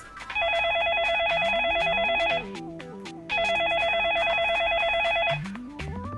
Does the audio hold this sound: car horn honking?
no